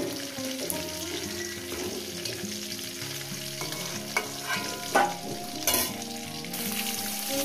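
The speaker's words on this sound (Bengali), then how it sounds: "মাছগুলো আমার ভাজা হয়ে গেছে" Pieces of katla fish fry in hot oil, giving a continuous, close sizzle with occasional crackles and brief clinks, with no talking over it.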